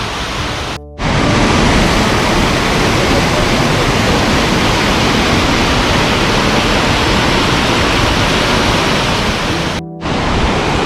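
Waterfalls and cascades in Sapadere Canyon, Türkiye, roar as a loud, continuous broadband rush of falling water, with no voices over it and two brief cuts in the sound.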